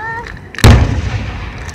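A single close, loud firework blast bursts out after a brief quiet moment, with a sharp crack followed by a rumbling decay, heard alone without talk.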